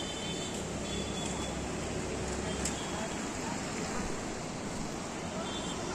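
Fast-flowing river water in Rishikesh, heard near a footbridge as a steady, broad rushing roar that stays constant for several seconds, with wind buffeting the microphone.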